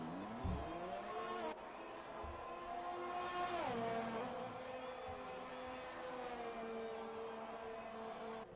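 A Red Bull Racing Formula One car entering the pit lane at the Abu Dhabi Grand Prix in F1 2020, its engine whining steadily and dropping in pitch as it slows, heard alone.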